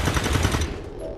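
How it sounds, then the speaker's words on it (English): Turret gunfire in the strategy game XCOM 2: a rapid, loud burst of automatic shots rattles for about half a second, then trails off into a fading echo, alone with no talking. "now the turret's gonna shoot at me"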